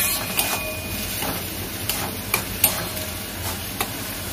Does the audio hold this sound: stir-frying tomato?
yes